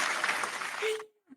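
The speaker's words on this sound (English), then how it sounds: "That deserves a round of applause." A short burst of applause from a small group, brisk and dense for about a second before cutting off, followed by a brief tone and a faint tap.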